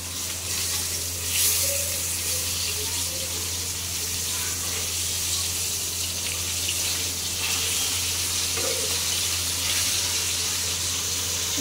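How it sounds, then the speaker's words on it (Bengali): Fish frying in a pan on a home kitchen stove gives a steady, continuous sizzling hiss that runs unbroken throughout, with a low hum underneath. "মাছ ভাজাটা হইতেছে"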